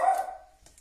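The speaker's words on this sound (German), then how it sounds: "Warum bellt die?" A single close, loud dog bark rings out and fades, followed by a faint rustle, with no talking.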